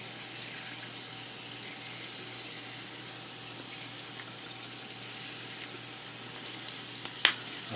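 Potatoes with Italian seasoning frying in a pan give a steady, quiet hiss with a low hum underneath, and a single sharp tap comes near the end.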